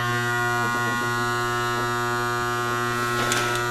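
A Makita hypoid saw's motor, stalled with the lock pin engaged and fed about 20 volts, gives a loud, steady electric hum with a harsh buzzing edge, close and continuous throughout with no talking.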